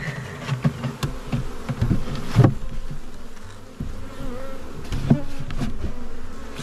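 Honeybees from an early-season swarm buzz steadily around the microphone while entering a nucleus hive, a close droning hum with occasional knocks and taps of equipment.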